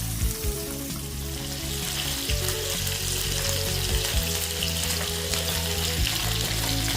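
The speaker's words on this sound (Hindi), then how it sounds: "एबे माछ गुड़ी को आमे स्वालो फ्राई करनबा।" Prawns shallow-fry in three to four spoons of oil in a pan on a gas stove, giving a loud, close, unbroken sizzle with a low steady hum underneath.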